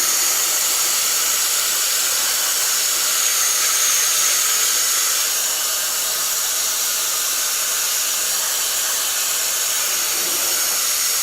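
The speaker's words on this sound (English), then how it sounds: "Little vacuum cleaner, but also works as a blower." A small handheld vacuum cleaner run in reverse as a blower, cooling a freshly 3D-printed part, gives a steady, loud airy whoosh with a bright hiss that holds evenly for the whole stretch.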